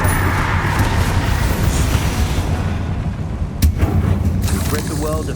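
A Confringo fire spell blasts a spider in Hogwarts Legacy, a dense rumbling roar of crackling energy with a sharp burst near the middle over continuous game ambience.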